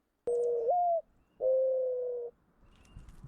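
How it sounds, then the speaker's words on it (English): Mourning dove cooing alone and close: a rising first note, then a long steady second coo, with quiet background after. "I would pay to have the mourning dove sound on repeat in my ears at all times."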